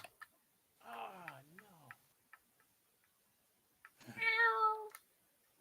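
A cat indoors gives two separate meows, a wavering one near the start and a brighter, higher one a few seconds later, amid faint ticking clicks in an otherwise quiet room.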